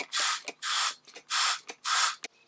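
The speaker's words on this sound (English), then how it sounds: "I'm going to use this rust remover" Four bursts of rust remover sprayed onto corroded steel cabinet screws, each a broad hiss lasting roughly a third of a second, separated by short clicks and small handling noises, close and fairly loud.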